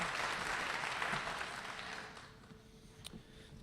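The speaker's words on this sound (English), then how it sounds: "Let's give them all a round of applause." Audience applause at a high school agricultural program spring banquet, a sustained roomful of clapping that gradually fades and thins out toward the end.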